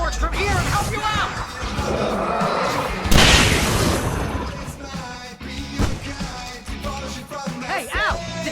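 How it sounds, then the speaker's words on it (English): Fireworks boom in Alan Wake Remastered, one loud burst standing out mid-clip over a dense, continuous din of crackling effects and voices throughout. "I can set off more of the fireworks from here and help you out!"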